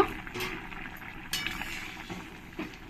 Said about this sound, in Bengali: একবার আমি ঢাকনাটা তুলে ভালো করে নাড়িয়ে দেব।